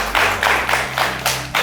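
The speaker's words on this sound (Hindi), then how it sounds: "एक बार तालियां मैडम के लिए" An audience at a meditation talk claps for a woman among them, giving several distinct bursts of loud, close hand-clapping in an irregular rhythm over a low background hum.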